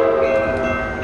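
Coaster commuter train passing through Encinitas, a loud, close, steady rumble with a sustained tonal hum for about a second, with no talking.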